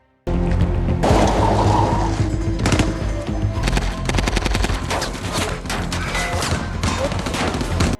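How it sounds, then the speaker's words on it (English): Dense gunfire fills a movie shootout in a factory, with rapid bursts and single shots crackling loudly over a rumbling action score, near and continuous throughout. "Suddenly, his brother, Harry, and his father provide him with suppressing fire"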